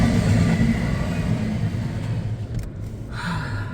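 A CSX intermodal freight train rolls past in the rain, a steady loud rumble of wheels and cars that holds for several seconds, heard from close by without any voices.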